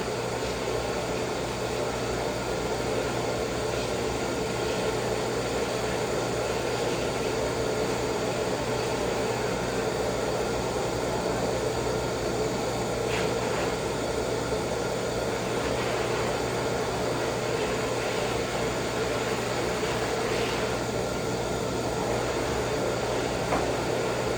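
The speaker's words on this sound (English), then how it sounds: "I really like using that dryer to flip their poop because it just makes that second pass through so nice" A pet grooming blow dryer runs on a doodle dog in a grooming salon, producing a loud, steady, unbroken roar with a constant whine for the whole stretch and no talking.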